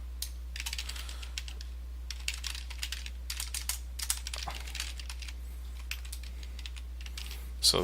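Fingers type on a computer keyboard in bursts of quick, light keystrokes with short pauses between them, over a faint steady hum in a quiet room.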